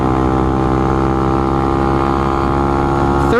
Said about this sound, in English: right now you can see I just shifted into third gear at 45 miles an hour